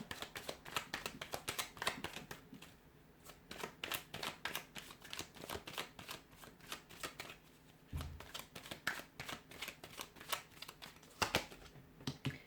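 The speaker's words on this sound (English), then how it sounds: "I'm going to give the cards a shuffle" Tarot cards are shuffled over and over, a rapid flurry of soft papery riffles and taps, close and fairly quiet, with no voices.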